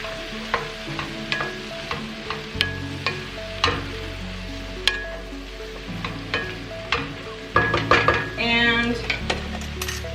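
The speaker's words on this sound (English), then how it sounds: "I'm gonna go ahead and add this to the pan. Mix this around a little bit." Mushrooms stirred and frying in a pan for cabbage soup: a steady sizzle under repeated scrapes and clinks of a utensil against the pan, growing busier and louder toward the end, with no talking.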